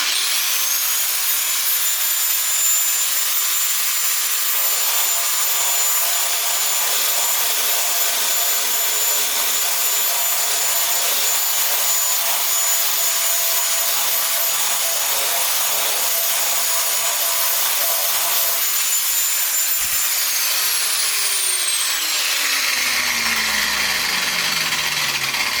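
An angle grinder grinds a drawn steel rod with light pressure, a loud, steady, high-pitched whine and rasp running without a break before the motor winds down near the end.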